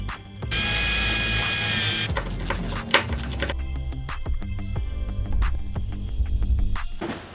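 Motorized TV lift in a DIY wooden cabinet running: a loud steady whine from the motor, then scattered clunks, ticks and mechanical knocking as the lift keeps moving, all close and without talk.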